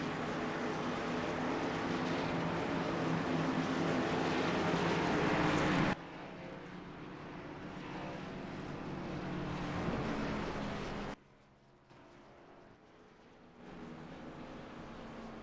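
Race car engines at Daytona in the iRacing sim, a steady loud broadband roar that drops in level twice, as if the mix or camera changes, with no talk over it.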